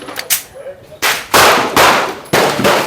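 Round racked into the chamber of a stainless Smith & Wesson 4043 TSW pistol, with short sharp metallic slide clacks and bursts of noise close by.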